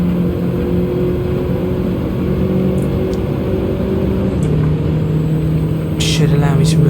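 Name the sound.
racing car engine in Gran Turismo 7 video game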